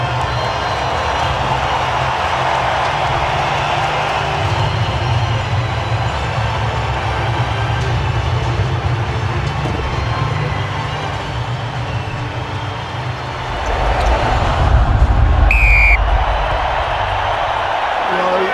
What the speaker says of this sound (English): Listen to the reception from this packed crowd at the Olympic Stadium.